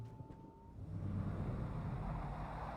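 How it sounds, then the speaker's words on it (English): In the video game Alan Wake, a car engine rumbles steadily as the car drives away from a farm, a low droning motor that holds at a moderate level with no voices. "A car was driving away from the farm"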